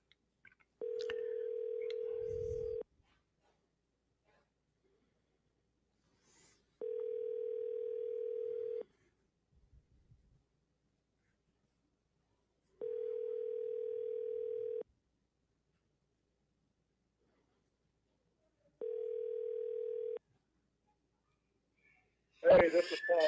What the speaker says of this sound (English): Ringing is always a good thing.